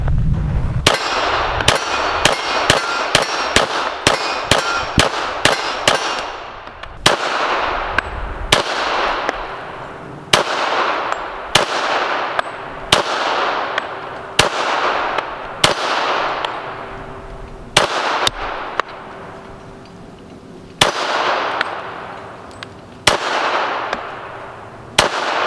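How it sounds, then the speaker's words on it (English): A Smith & Wesson 4006 TSW pistol fires a quick string of sharp, loud shots at an outdoor range, then slower single shots with ringing echoes, as spent brass casings clink onto a tarp below. "So we'll just stand right over the tarp and shoot these."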